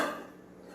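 A metal pot lid is set down over soybeans soaking in freshly boiled water for homemade tempeh, giving one short, quiet clink that rings and fades quickly.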